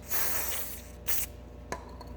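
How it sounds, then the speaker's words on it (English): A short hiss of aerosol brake cleaner sprayed during front wheel bearing work on a 2005 Mercedes-Benz C240, then a second brief burst and a faint click, fairly close with no voices. "I spray brake cleaner on this"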